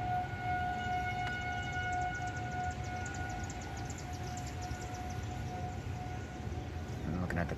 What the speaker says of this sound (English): Tornado sirens are going off again.